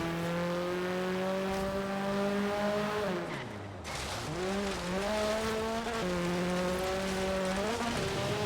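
Engine of a low-powered, Mini-inspired rallycross car in a racing video game: a steady buzzing drone that revs, dips sharply as if lifting off or shifting, then climbs and wavers through several gear changes.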